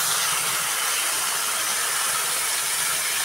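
Water hitting already-fried eggplant in a hot pan makes a loud, steady, broadband hiss, a continuous steam-like sizzle with no talk over it.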